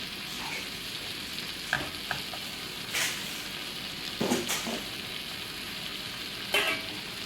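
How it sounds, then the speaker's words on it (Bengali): Malabar spinach greens are stirred in a pan, hissing in a soft continuous sizzle with occasional scraping knocks of the spatula, quiet and close with no voices. "দেখো, এটাকে আমি ভালো করে নেড়ে নিচ্ছি।"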